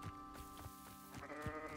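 Sheep in the Hogwarts Legacy video game bleat in a quavering, wavering cry that holds steadily over a couple of seconds, faint and slightly distant with no talk over it.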